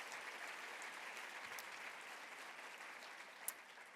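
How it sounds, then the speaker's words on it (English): Steady applause from an audience at an awards gala, a dense wash of clapping hands that holds even throughout, with no voices over it. "Let's give that initiative a round of applause."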